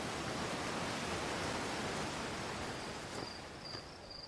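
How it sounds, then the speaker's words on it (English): A loud waterfall roars as continuous broadband hiss, steady and enveloping, with a faint high chirp near the end and no voices. "Loud waterfall."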